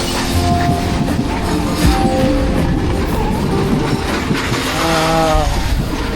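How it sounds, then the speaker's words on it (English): A train rumbles steadily along the rails in Sri Lanka, with a dense clattering roar and occasional squealing metallic tones from the wheels, loud and close. "Exploring by train seemed the obvious solution."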